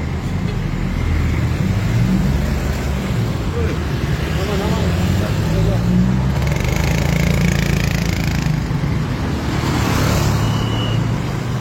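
Steady, busy but free-flowing city traffic on a street in Pematang Siantar near a senior high school, a continuous wash of car and motorbike engines with passing vehicles, loud and close throughout.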